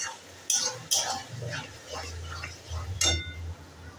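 Loitta fish is stirred in spiced oil in a kadai, with a few metallic clinks and scrapes of the utensil over a low sizzle and some indistinct voice in the background.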